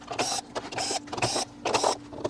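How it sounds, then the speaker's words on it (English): A screwdriver backs out the perimeter screws on the rear cover of a Sony XBR-55X850D / XBR-65X850D television, giving four bursts of close, whirring, buzzy sound separated by short pauses, with no talking. "Next we'll remove the perimeter screws."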